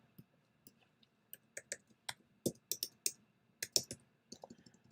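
Irregular keystrokes on a computer keyboard, close and fairly quiet, tapping out a short entry in bursts with brief pauses, no one talking over it.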